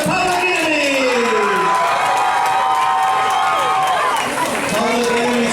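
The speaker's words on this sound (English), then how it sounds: "Everybody, give a big, big round of applause for the Public Enemies." A crowd at a team game roars and cheers loudly for the Public Enemies, with shouts and whistles layered into a continuous wall of noise and voices calling out over it.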